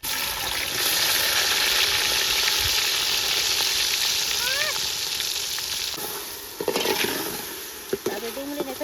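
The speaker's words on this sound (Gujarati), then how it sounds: "તો આપણું તેલ ગરમ થઈ ગયું છે. હવે આપણે ડુંગળી નાખી દઈશું એમાં." Chopped onions hitting hot oil in a pan for a chicken fry, giving a loud, close, continuous sizzle that swells and then eases, with clatter and stirring scrapes near the end and no talking over it.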